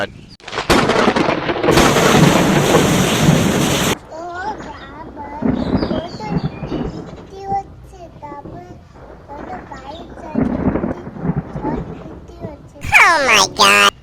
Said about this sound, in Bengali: হ্যাঁ খুব ঝড় বৃষ্টি হচ্ছে